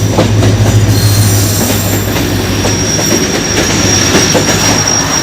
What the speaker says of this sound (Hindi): ट्रेन पहुंच चुका है।